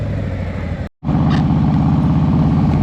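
Larry's motorcycle engine runs steadily at idle, a continuous low rumble close by, with a brief cutout of near silence partway through.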